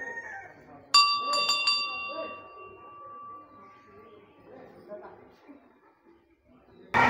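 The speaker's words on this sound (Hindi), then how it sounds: "चलिए घंटी बजाते हैं।" A temple bell at a Hanuman shrine in Nardevi, Nepal, is struck two or three times in quick succession. The bright metallic clangs ring out nearby and fade slowly over soft background murmur.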